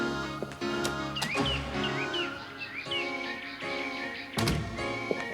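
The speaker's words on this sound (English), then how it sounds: "we got the sounds of birds" Birds chirp and trill in short, bright calls within a song recording, heard over sustained musical tones, with a door-like thunk and a few loud knocks.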